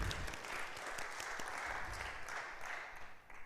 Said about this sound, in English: I would like us to just applaud him for a job well done